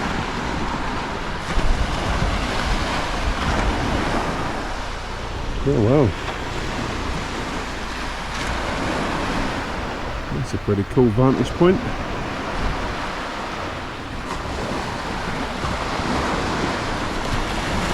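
North Sea surf rolls onto the Norfolk shore as a broad, steady wash mixed with wind buffeting the microphone, while a person speaks briefly over it.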